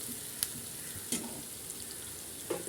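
Onions frying in a pan, a soft continuous sizzle broken by a few brief stirring scrapes, close and alone with no talking.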